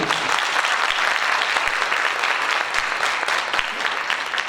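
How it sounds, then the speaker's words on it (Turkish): At a Turkish folk music ensemble's concert, the audience claps in a steady, full round of applause with a few sharper individual claps standing out, continuing unbroken throughout. "Bir alkış rica ediyorum."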